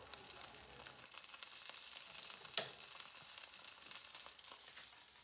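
Dumplings pan-frying in oil to crisp their bases give a steady, close hiss of sizzling with small crackles and one brief sharper pop partway through.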